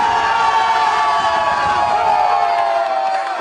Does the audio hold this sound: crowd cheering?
yes